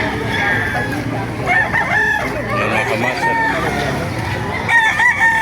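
Several roosters crow over one another amid a dense, noisy din of clucking chickens at a chicken market in Baliuag, Bulacan, with someone briefly speaking nearby.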